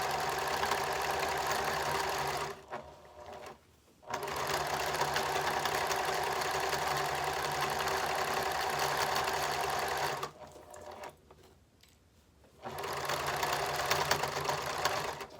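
A sewing machine stitches folded cotton strips for fabric mask ties, a loud steady close whir broken by two short pauses where the motor stops before running again.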